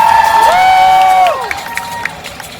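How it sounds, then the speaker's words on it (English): A crowd at a live Fear Factor stunt show at Universal Studios cheers and shouts loudly at first, then the noise drops to a thinner murmur with scattered calls. "Audience, let's cheer them on!"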